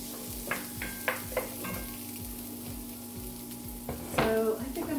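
Onions frying in a pan, a steady sizzle with a few sharp clinks and scrapes as they go in, and a louder burst of crackling near the end; no voices.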